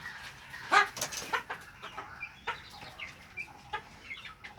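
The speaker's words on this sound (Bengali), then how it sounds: "এই যে আমার বাচ্চাগুলো, 6টা মুরগি আছে, 2টো মোরগ আছে।" Egyptian Fayoumi chickens, a small flock of six hens and two roosters, cluck and call in irregular bursts, one louder squawk standing out near the start, with no talking.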